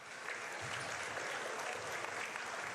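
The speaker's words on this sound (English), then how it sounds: "It's a round of applause from the fans here in attendance at Winnie Mac tonight." Basketball fans in the stands at Winnie Mac give a round of applause during a high school game against Ada-Borup-West, a steady, fairly distant patter of clapping across the gym.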